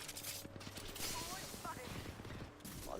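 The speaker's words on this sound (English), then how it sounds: "The Gibby airstrike here is coming in." A Gibby airstrike in the Apex Legends video game: a dense, steady barrage of rapid explosive impacts and gunfire-like bursts lasting throughout, with a faint voice underneath.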